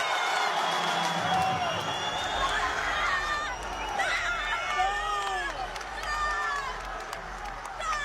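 An arena crowd roars and whoops after a UFC tap-out in the Arman Tsarukyan vs Patricky Freire fight, with loud, continuous cheering and shrill whistles around a commentator's voice.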